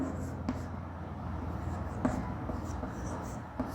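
A pen or chalk writing a chemistry definition during a lesson on classifying matter; soft, steady scratching strokes close by, with a few small taps, over a low room hum.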